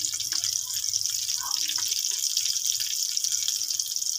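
Eggplant fries dhaba style in a pan with red chili, turmeric and salt, giving a continuous bright sizzling hiss that stays close and even throughout.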